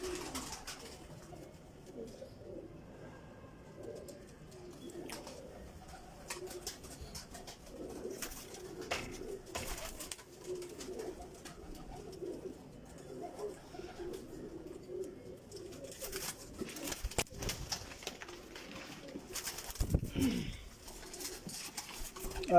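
Teddy pigeons coo softly in a loft, low murmuring calls continuing across the stretch with occasional louder clatter and bumps nearby.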